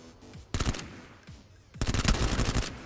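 Vector submachine gun fire in the shooter game PUBG: two rapid automatic bursts, the first short and the second longer and sustained, loud and close with no talking over them.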